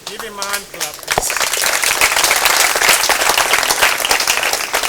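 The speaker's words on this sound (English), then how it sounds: "Give him a hand clap, please." Applause at a high school alumni prize giving day, a crowd breaking into loud, sustained clapping after a brief announcement by a speaker, continuing steadily to the end.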